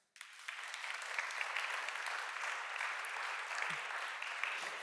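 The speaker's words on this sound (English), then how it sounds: "please give a round of applause for my colleague and co-MC, Helen Collis" Steady audience applause at a conference session fills the space after a brief silent start, a dense, continuous wash of many hands clapping that holds evenly for several seconds.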